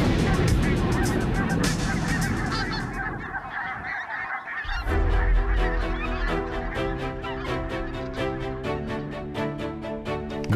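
Wild geese honk loudly and continuously during a goose hunt in Italy, a dense chorus of overlapping calls from a flock homing in on decoys, close and unbroken.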